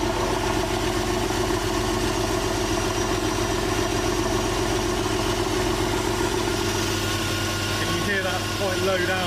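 Rebuilt Porsche 911 engine idling on its first run: a steady, close, even mechanical idle with a low rhythmic thrum, voices talking over it.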